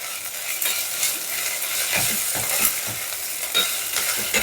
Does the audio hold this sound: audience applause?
no